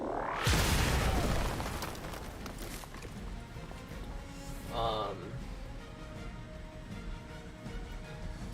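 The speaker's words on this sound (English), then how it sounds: "Carol, go ahead and detonate this" A powerful detonation erupts in Marvel's Midnight Suns, a loud booming blast that rumbles and fades over a couple of seconds, followed by a smaller burst and lingering game effects, with a voice speaking over parts of it.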